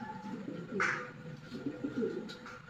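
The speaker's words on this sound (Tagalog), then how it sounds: "Ibon po ulit ni Jimmy Neses." Soft cooing bird calls, a few low repeated notes with one brighter call early on, faint against quiet background noise.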